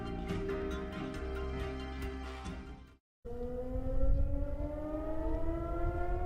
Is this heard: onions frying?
no